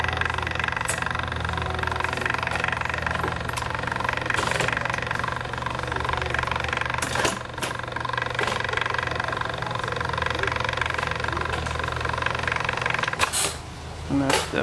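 Rod winch system lifting a feeder line, a loud, continuous mechanical motor hum with a rapid rattling vibration that runs steadily throughout, with a few sharp clanks.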